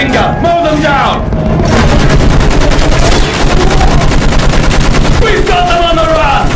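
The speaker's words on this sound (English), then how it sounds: "Use that machine gun! Mow them down!" Rapid, sustained machine gun fire in the World War I shooter Battlefield 1 hammers loud and close in a dense rhythmic stream, with shouted voices over it at the start and near the end.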